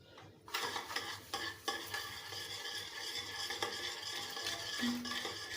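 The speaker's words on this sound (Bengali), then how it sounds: "অবশ্যই ডিমটা তোমরা ভালোভাবে মানে এভাবে ফোম করে নেবে" Eggs and sugar being beaten into a foam for cake batter, with a continuous close whisking and scraping against the bowl that runs steadily throughout and has no voices over it.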